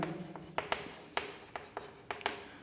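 Chalk or marker writing on a board in a science classroom, heard as a series of short scratchy strokes and taps in an uneven rhythm, close and fairly quiet, with no talking over it.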